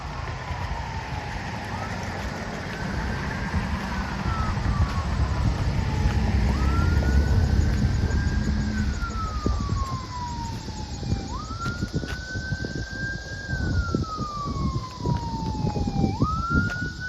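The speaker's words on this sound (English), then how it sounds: "We hear first responders in the distance." Wailing emergency vehicle sirens from first responders sweep up and down repeatedly in the distance, heard on a city street over steady traffic rumble during an afternoon walk.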